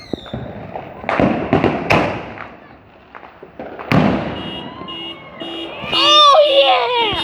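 Fireworks go off at night with a series of sharp bangs and crackling bursts, some near and loud, followed by a whistling, alarm-like tone, with children's voices heard among them.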